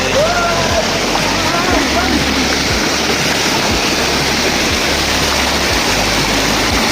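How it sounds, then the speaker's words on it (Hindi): A small riverside waterfall at dusk, its water close enough to touch, pours with a loud, constant rushing roar throughout, while a voice speaks faintly underneath. "छोटा झरना जो बिल्कुल ही आप अपने हाथों से स्पर्श और महसूस कर सकते हैं"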